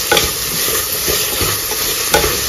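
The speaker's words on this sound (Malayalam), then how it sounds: "ഓക്കെ, നന്നായിട്ടൊന്ന് ഇളക്കി പിടിപ്പിക്കുക." Onions stirred in hot oil in a pressure cooker for biryani, a steady sizzle of frying with scraping spoon strokes against the pot, close and continuous without talk.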